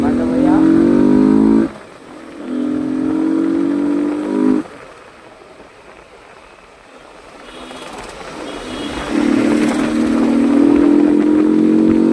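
Yamaha R15 V4 motorcycle engine droning loud and close in steady riding stretches, dropping away for a few seconds before surging back, with wind hiss throughout.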